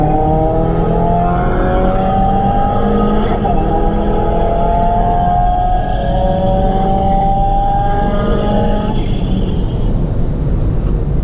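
A MK7 Volkswagen Jetta GLI and a Subaru WRX accelerate hard side by side in a roll race, engines rising steadily in pitch through the gears with a loud, continuous roar and wind noise that holds throughout.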